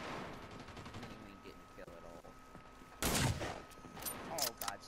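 Shooter game gunfire rattles in quick bursts, with a loud blast near the three-second mark and more shots after, as players talk over the action.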